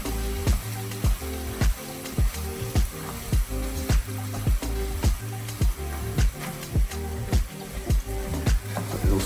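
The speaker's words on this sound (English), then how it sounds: "Get your nice spoon, just basically stir it" A spoon stirring taco filling in a hot pan, with steady sizzling and rhythmic scraping strokes repeating about once per second, close and clear, with no talk.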